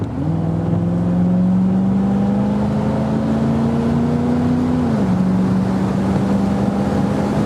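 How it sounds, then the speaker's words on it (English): A 1970 Corvette's engine drones steadily and loudly close by, its pitch climbing gradually under throttle before dropping back, with wind rush throughout. "Okay, let's give it a little gas."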